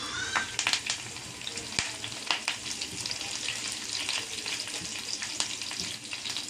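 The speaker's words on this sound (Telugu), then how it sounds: "కొంచెం తాలింపులు, జీలకర్ర, ఈ ఎల్లుల్లిపాయలు కొంచెం ఫ్రై అయిన తర్వాత కొంచెం కరివేపాకు వేసుకోవాలండి." Cumin, garlic and curry leaves frying in hot oil for a tempering, a steady close sizzle with sharp crackles and pops throughout, no voices.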